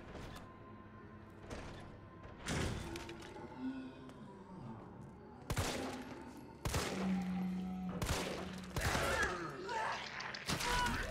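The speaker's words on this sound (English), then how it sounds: "You were shot 4 times in the head, you should be down" Gunfire from Resident Evil 3 Remake aimed at an enemy: several loud, sharp shots spaced unevenly across the stretch, with mechanical clicks and creaks in between, and no talk.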